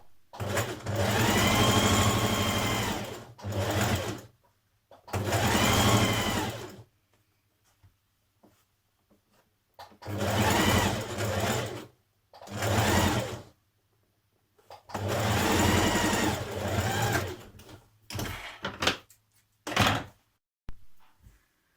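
A sewing machine stitches the seams of an occasion dress made from Simplicity pattern 1195 with a 1.5 cm seam allowance, running in several sustained bursts of whirring stitching separated by short pauses.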